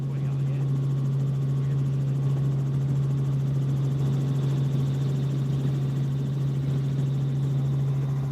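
A helicopter drones steadily overhead above the Périgord region of France, its rotor thrum and engine hum continuous and fairly loud throughout.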